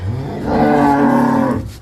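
A cow lets out one loud, drawn-out moo, close by and lasting over a second.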